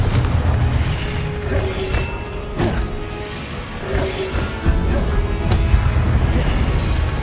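Confringo blasting spell explosions in a Harry Potter video game, loud booming blasts with sharp cracks around two, four and five seconds over a rumbling low roar, no talk.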